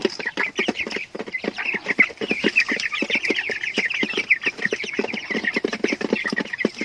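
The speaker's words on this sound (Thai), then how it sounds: "ไก่ไข่กับนกกระทานะเพื่อน ๆ" Laying hens and quail on a rural farm in the evening cluck and chatter continuously at close range, a busy overlapping flock sound with no talking.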